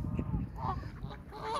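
Ducks and geese call nearby in a mixed flock, with a few honks and quacks overlapping quietly at low volume.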